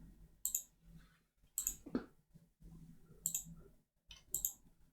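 Computer mouse clicks during software navigation, four crisp sharp bursts spaced about a second apart, close and fairly quiet, with faint room noise and a brief low thump between them and no talking.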